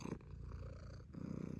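A cat purrs steadily on a bed, a low rhythmic rumble pulsing close to the ear, soft and alone with a brief pause midway.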